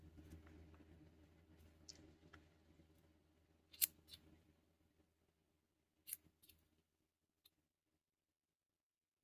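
Scissors snip through crochet yarn a few times, with crisp, separate cuts spread over several seconds above a faint low hum that fades out, and no speech.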